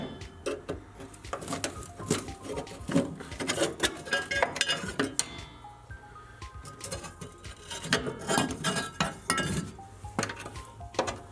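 Metal clinks, clanks and rattles as a bottom plate is fitted onto the dash of a Jeep CJ7, sounding in close, irregular bursts throughout with no talking.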